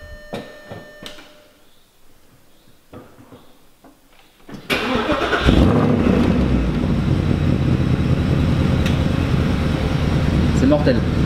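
Four-cylinder diesel car engine cranks after some quiet handling and clicks, then catches and settles into a loud, steady clattering idle up close, with voices around it.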